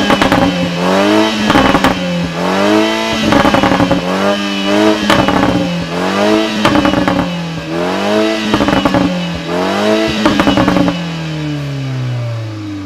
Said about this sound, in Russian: если мы сейчас запустим двигатель автомобиля и включим его в режим спорт